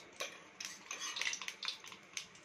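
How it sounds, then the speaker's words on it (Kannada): Mustard seeds dropped into half a cup of hot oil in a pan for lemon rice, making a soft continuous sizzle with faint crackles and light pan clinks, quiet and close. "ಸ್ವಲ್ಪ ಸಾಸಿವೆ ಹಾಕ್ತಾ ಇದೀನಿ"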